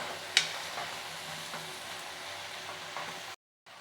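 Cluster bean palya being stirred and mixed with peanut powder, coconut and jaggery in a pan, a soft continuous scraping and light sizzle with one sharp clink near the start, then a brief cut to silence.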